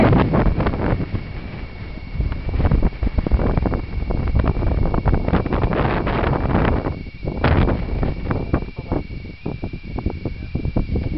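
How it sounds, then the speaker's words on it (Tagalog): Cold wind buffets the microphone on the foggy, cloudy summit of Mount Hibok-Hibok, a loud continuous rumble with irregular gusts and rustling throughout the whole stretch. "It's foggy, it's cloudy. You can't see anything, but it's cold and windy."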